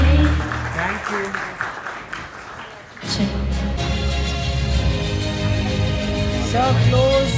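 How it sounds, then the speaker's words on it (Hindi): An audience applauds at an event honouring a rank holder; the dense clapping is loudest in the first few seconds, and voices and sustained musical tones sound over it, carrying on after the applause fades. "Come on everyone, तालियां बजाइए"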